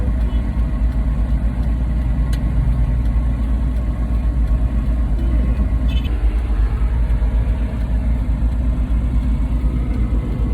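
Cars and motorbikes idle in a traffic jam, giving off a dense, continuous engine rumble close by, loud and steady throughout with no clear voices.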